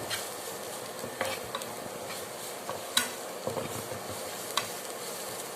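Onions frying in a pan for a leafy-greens mash, a quiet steady sizzle with several soft utensil scrapes and taps, no talking.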